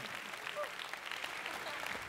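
A live audience at a mind-reading stage show applauds a volunteer, a dense, steady clapping that fills the room throughout, with a voice briefly audible over it.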